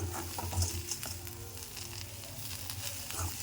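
Radish leaves curry frying in a pan, a steady close sizzle with occasional stirring scrapes and light patter throughout, no talking.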